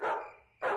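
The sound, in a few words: dog barking at night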